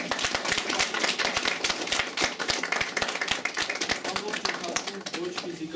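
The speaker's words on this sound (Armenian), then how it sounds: "Ծափահարենք մեր հեղինակին։" An audience claps steadily for an author at a book launch, a sustained round of crisp hand claps with a faint murmur of voices beneath.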